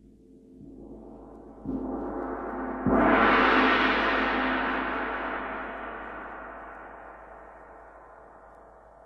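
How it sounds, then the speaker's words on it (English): A large Chinese gong starts with soft strokes, then a heavy strike makes it bloom into a loud, shimmering roar. The tone decays slowly over several seconds, heard alone. "Chinese gong."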